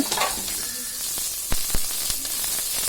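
Onions sautéing in a pan for tomato rice, a steady soft sizzle with a couple of sharp clicks of the spoon against the pan partway through, close and moderately loud, no voices.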